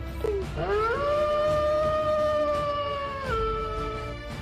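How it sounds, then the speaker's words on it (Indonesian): An animated Wolf King lets out a single long, rising and sustained howl that holds steady before dropping off, loud and close in a fantasy cultivation game story. "suara lolongan dari Wolf King sontak membuat Tang Lei dan Zhao Zeng teralihkan"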